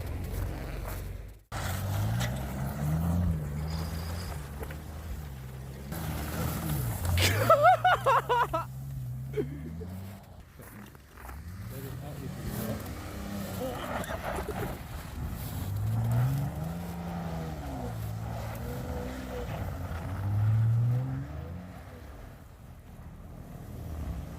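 A V6 Dodge Charger slides around on snow, its engine revving up and falling back in repeated surges while wind buffets the microphone and a few brief bumps break through.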